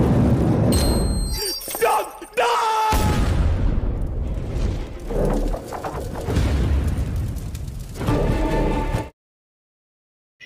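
Loud booming blasts and crackling bursts roll through a noisy, chaotic scene with several rumbling impacts, then cut to silence.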